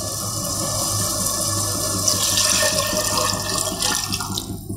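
Water pouring steadily into a cooking pot for mushroom biryani, a continuous close splashing and trickling stream that grows fuller partway through, with no talk.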